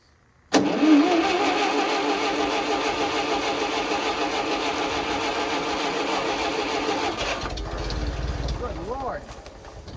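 A Wisconsin V4 air-cooled engine cranks and catches, then runs with a loud, steady mechanical chatter for most of the clip before dropping off near the end, with voices faintly underneath.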